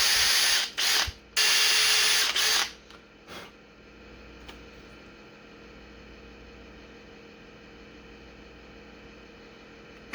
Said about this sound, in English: Gotta drill eye sockets here.